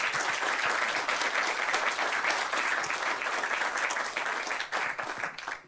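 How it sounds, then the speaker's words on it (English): An audience claps steadily for several seconds, a dense wash of applause that tapers slightly toward the end. "let's give them a round of applause."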